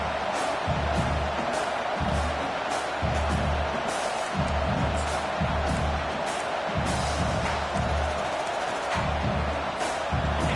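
A packed college football stadium crowd in the video game College Football 25 roars steadily throughout, a loud, continuous wash of cheering with rhythmic low thumps pulsing beneath it.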